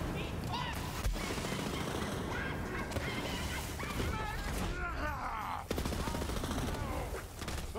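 Rapid bursts of Polybius gunfire from a Borderlands 3 game fill the clip, dense and loud, with a goose-like honking effect mixed in over busy game sounds.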